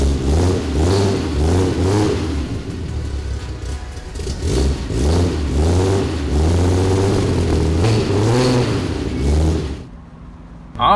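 The engine of a 47-year-old Hornet station wagon revs repeatedly, loud and close, with a rhythmic rise and fall of throttle blips over a rough idle before cutting off near the end.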